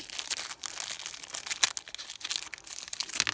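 A plastic bag crinkles continuously as vintage 1962 Marx 30mm toy astronaut and alien figures are pulled out, a close, busy rustling with brief crackly peaks.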